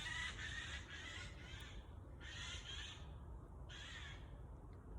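A crow caws outdoors in three loud harsh bursts at a steady rhythm, over a low constant rumble of background noise.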